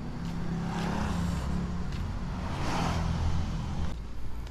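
Steady highway traffic at Kamalig, a continuous broad roar of passing cars and vehicles with swelling pass-bys, fairly loud and close, no talking.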